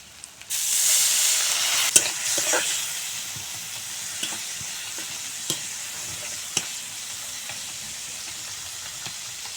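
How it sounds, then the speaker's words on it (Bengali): Ground chilli and cumin spice paste with a splash of water stir-fried in a pan, a steady close sizzle with scraping stirs and a few sharp spatula clicks, no talking. "এখন একটু জল দিয়ে মশলা ভালো করে কষিয়ে নেব।"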